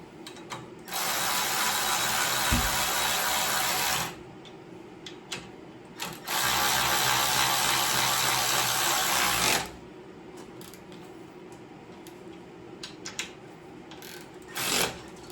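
A power tool spins bolts out of a car part on a workbench, two sustained loud mechanical whirring bursts of several seconds each, separated by quiet pauses with faint clicks and a short final burst.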